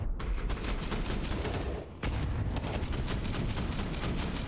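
Gunfire in Counter-Strike during a 100 Thieves versus Falcons esports match crackles in dense bursts, loud and near, broken by a short pause before the shooting resumes.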